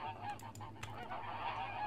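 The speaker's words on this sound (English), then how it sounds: "That's a duck noise." Honking duck calls from a Minecraft Bedrock YCreatures addon, a few nasal quacks in quick succession over a faint steady game ambience, no voices.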